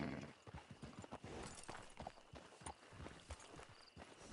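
Horse hooves clip-clopping at a walk in Red Dead Redemption 2, a steady rhythmic series of close, distinct hoof strikes continuing throughout, fairly quiet, without speech.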